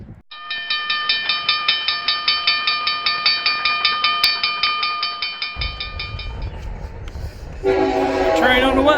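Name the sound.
Union Pacific train passing with horn at Clinton depot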